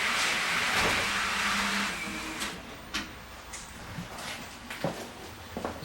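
An N gauge model Class 321 train rolls around a small layout with a continuous rushing rumble and rhythmic clicks over rail joints, close and moderately loud with no talking.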